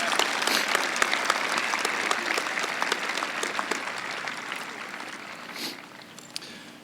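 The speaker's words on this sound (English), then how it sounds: "Let's have one more round of applause for our student speakers and our student performer." Dense, steady applause from a large crowd at a high school commencement ceremony, honoring student speakers and a performer, holding strong throughout before tapering slightly near the end.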